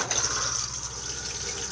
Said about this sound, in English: To flush, just push the blue button on the top